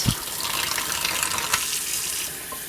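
Hot tap water runs from a kitchen faucet in a steady, loud hissing stream, close and continuous for a few seconds.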